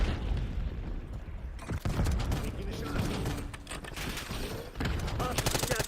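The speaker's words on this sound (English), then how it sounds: "Mark incoming grenade." A grenade goes off amid steady gunfire on a Call of Duty: Black Ops 6 multiplayer map, part of a dense, loud battle din with rattling shots and mechanical clatter throughout.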